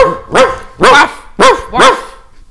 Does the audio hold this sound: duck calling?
no